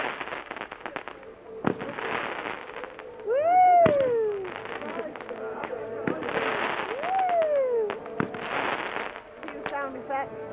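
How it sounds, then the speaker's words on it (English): Fireworks go off at a bonfire night party, with sharp bangs and crackles, rising whistles and bursts spread through the scene while people talk and exclaim nearby. "Fireworks."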